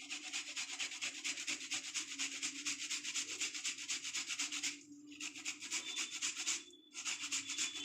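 Rhythmic rubbing or grating while cooking shukto, a rasping scrape repeated in quick even strokes, close and fairly faint, with two short pauses and no voices.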